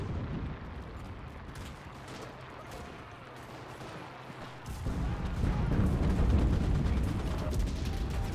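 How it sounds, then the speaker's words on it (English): Mortar fire in the Enlisted video game, Normandy campaign: a continuous low rumble of distant impacts and gunfire that swells louder midway, with no talk. "That's a mortar."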